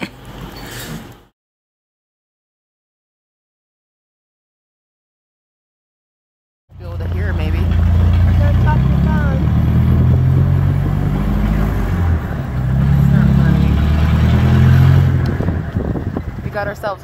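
Car engine running during a ride up to the main road in Chiang Mai, Thailand: a steady close rumble that starts after a silent gap and carries on with people talking over it.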